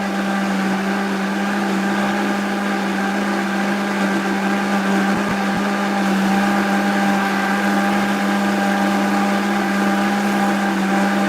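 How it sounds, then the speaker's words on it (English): A Vitamix blender runs steadily at high speed making smoothie, a loud continuous motor whine with strong hum and overtones, unbroken across the whole stretch with no talking. "what kind of blender is that? Well, this is a Vitamix."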